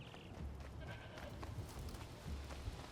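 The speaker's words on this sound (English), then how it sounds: "I hear goats." Goats bleat softly in a snowy area of the video game Horizon Zero Dawn Remastered, a few short wavering calls rising over a quiet ambient bed, fairly faint and somewhat distant.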